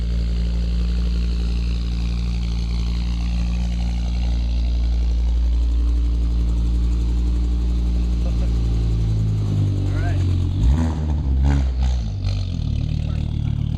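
A Volvo fitted with an IPD 4T4 turbo engine running, a loud steady low engine drone with deep harmonics, shifting into rougher revving and clatter toward the end, with voices talking over it.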